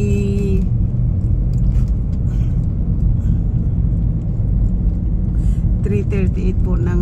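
A car drives in slow traffic on Freeway 101 toward Daly City, California, with a steady loud road rumble and engine drone throughout the cabin, and a voice briefly speaking at the start and end.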